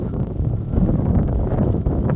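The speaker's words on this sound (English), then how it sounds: "Quite windy. The wind is picking up" Strong wind among desert dunes in Mauritania buffets the microphone in low, rumbling gusts, continuous and rough with no voices.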